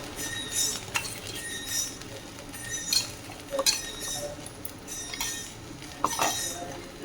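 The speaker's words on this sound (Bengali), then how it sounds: "এখন এই যে ভালো করে মিক্স করে নিচ্ছি তো গুঁড়ো বাদামটা দিয়ে" Ground nuts are stirred into a dish in a metal pan, with intermittent scraping and clinking of a spoon against the pot, moderately close, in short bursts separated by quieter stretches.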